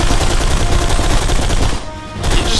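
Shotgun fire and dense gunfire in the video game Blacksite: Area 51, loud, continuous blasts filling most of the stretch with a brief dip near the end before resuming.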